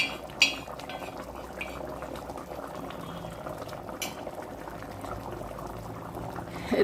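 Dhokar dalna curry boils in a pot, a dense close bubbling that runs steadily throughout, with a few clinks of a utensil against metal. No one speaks.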